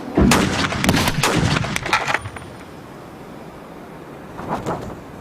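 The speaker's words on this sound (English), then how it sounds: "At over 200 meters per second, the round shot is devastating." A historic cannon fires solid iron round shot at a target 100 yards away in a Waterloo 1815 reenactment: a loud blast followed by sharp rattling impacts, then the noise fades into a quiet outdoor hush with a faint later thud.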